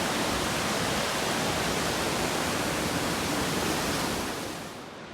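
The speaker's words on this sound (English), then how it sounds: "So I'm almost at the river. I'll look at the mileage, but you can hear it" A river on a hiking trail gives a steady, broad rush of flowing water, close and continuous, fading slightly at the very end, with no voices.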